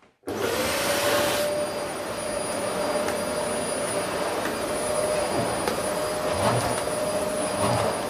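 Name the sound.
Vax Power Compact vacuum cleaner running on carpet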